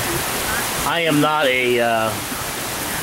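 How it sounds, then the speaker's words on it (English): Heavy rain pours down outdoors as a loud, constant hiss while someone speaks over it close by. "That's how much rain it is."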